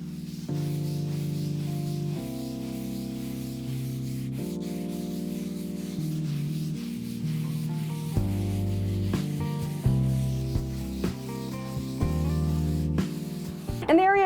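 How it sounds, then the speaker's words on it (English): Light hand sanding with 100-grit sandpaper over a faux-concrete planter coated in joint compound, a steady close rubbing scratch that lasts throughout, with strokes shifting in tone and a few small knocks. "I'm gonna just go over with a 100 grit sandpaper super lightly, just to buff everything down and smooth it out"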